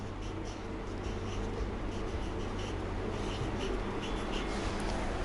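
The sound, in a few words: writing a word by hand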